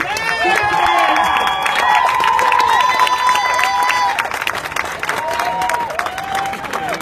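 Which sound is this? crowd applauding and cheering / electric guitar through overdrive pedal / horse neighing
crowd applauding and cheering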